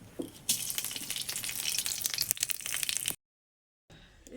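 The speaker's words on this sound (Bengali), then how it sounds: "কড়াতে তেল 5 ফোড়ন দিয়ে দিয়েছি" Five-spice tempering (panch phoron) crackles and sizzles loudly in hot oil in a wok, a dense spitting hiss that cuts off suddenly before faint sizzling resumes.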